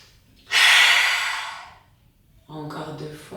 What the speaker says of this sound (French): la respiration du lion, je tire la langue et je regarde entre mes sourcils